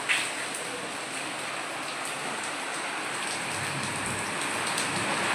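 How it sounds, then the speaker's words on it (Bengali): Heavy rain and storm pour steadily outside a tent, a dense, loud hiss of falling water that fills the whole stretch without pause. "আর বাইরে তো সেই ঝড় বৃষ্টি চলছে দেখো।"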